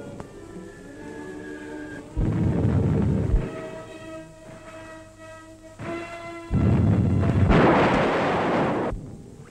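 Artillery fire in 1937 Spanish Civil War newsreel footage, two heavy booming blasts followed by long rumbling tails under an orchestral score, with a sharper burst near the end.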